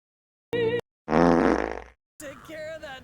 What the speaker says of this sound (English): we go around and fart on construction workers